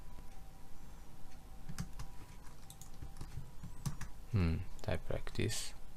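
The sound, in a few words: typing on a computer keyboard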